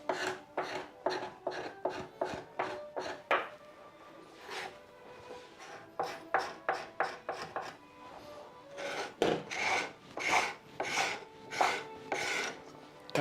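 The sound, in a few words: flat scraper scraping a wooden door during restoration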